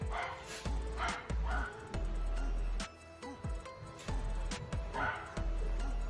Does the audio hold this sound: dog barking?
yes